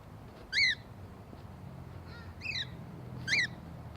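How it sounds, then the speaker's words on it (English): Pet birds give three loud, sharp cheeps outside on a spring day, a close one-second-spaced series over quiet background ambience. "And they like to cheep back at everything"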